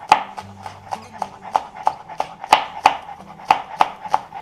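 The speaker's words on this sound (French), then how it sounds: "Et je vais simplement venir les hacher rapidement là." Green onions chopped with a knife on a cutting board, about a dozen crisp, evenly spaced knocks in quick succession, close and clear with no talking.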